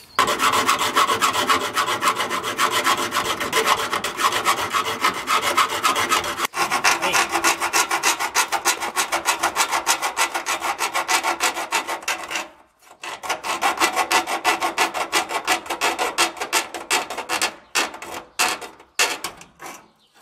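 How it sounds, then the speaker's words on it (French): A hacksaw rasps steadily back and forth through the metal frame of a 1000-litre water tank in fast rhythmic strokes, loud and close, with a brief pause before sawing resumes. "Je vais finir ça à l'aide d'une lame de scie à métaux, tout simplement."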